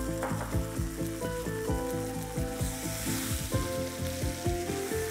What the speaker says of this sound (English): Keep mixing till the mixture stops bubbling completely.